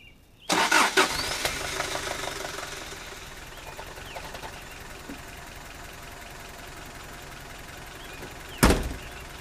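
A car engine cranks and catches, roaring up loudly before settling into a steady idle; a sharp clunk sounds near the end.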